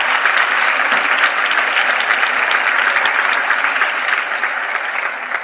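Steady applause from a sizable church congregation during a sermon, dense and continuous, easing slightly toward the end.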